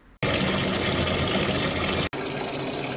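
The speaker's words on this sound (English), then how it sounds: "So the water will just flow right into your machine." Water from a shower head runs through an inlet hose into a portable washing machine, a loud, steady gushing rush that breaks off for an instant before continuing strongly.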